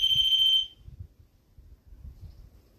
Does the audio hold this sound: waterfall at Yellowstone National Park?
no